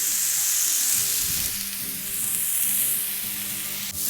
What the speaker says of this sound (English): we're just gonna let these burgers cook until we have a nice crust forming on the bottom of